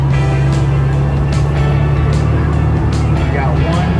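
Air-cooled engine of an all-original 1970 Volkswagen Beetle running, a loud steady low drone with a pulsing rumble and faint repeated ticks, close and continuous throughout.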